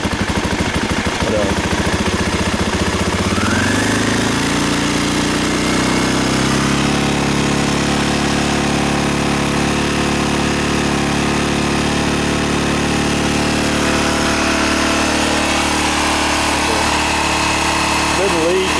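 A 1988 Honda NX250 motorcycle engine starts up, then idles and is revved up to warm, giving a loud, close, continuous buzzing drone that steadies into a rising engine note.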